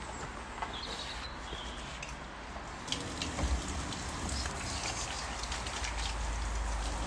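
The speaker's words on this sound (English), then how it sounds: "Got to wash my hands." Kitchen tap running while hands are washed, a steady hissing splash of water that grows slightly fuller midway, fairly faint and heard alone.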